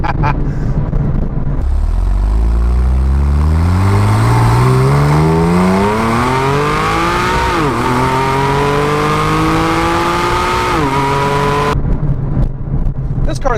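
A Porsche 911 Carrera GTS accelerates hard through a rising sequence of gear changes, its engine note climbing loud and close and dropping briefly at each upshift before pulling on again.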